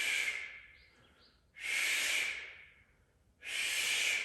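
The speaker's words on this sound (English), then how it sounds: "Get into the breath." Three slow, deep breaths drawn and released during a morning stretch, each a long airy hiss that swells and fades, close and otherwise quiet.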